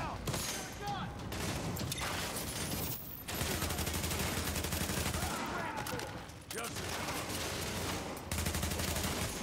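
Video-game gunfire in The Division crackles in dense, sustained bursts of rapid automatic shots, loud and close, with only short breaks between volleys and a voice talking over parts of it.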